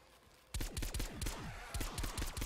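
Rapid rifle gunfire in Call of Duty: Black Ops, a burst of loud, dense shots in quick succession after a brief quieter moment, close and punchy.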